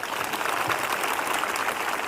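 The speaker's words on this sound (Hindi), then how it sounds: "एक जोरदार ताली बजाएं" A crowd at a Sunday evening church prayer meeting claps loudly, a dense, continuous patter of many hands that keeps an even level for a couple of seconds.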